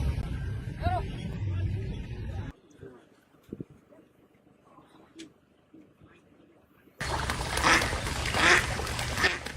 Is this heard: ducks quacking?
yes